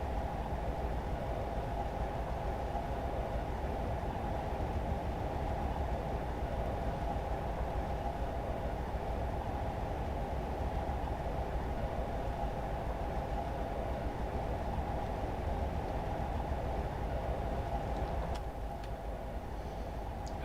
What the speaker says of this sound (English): So just let the train coast towards 60.